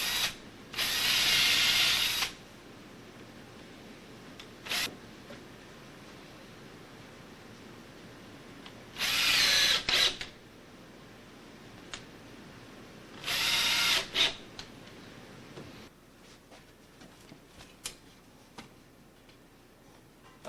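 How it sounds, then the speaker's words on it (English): A power drill boring holes for door hinges runs in three short, loud bursts separated by quiet pauses, with light clicks and handling noises in between. "We're going to drill 2 holes."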